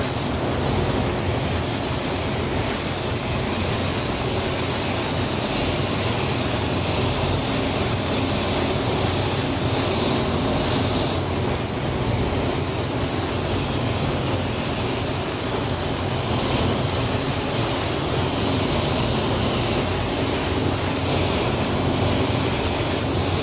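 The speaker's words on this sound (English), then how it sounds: "I'm going to start spraying." A spray gun lays down Createx candy paint graphics on a car hood, giving a loud, continuous hissing rush of air and atomized paint that holds steady without pause.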